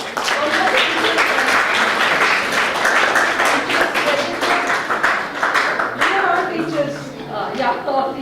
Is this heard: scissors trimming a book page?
no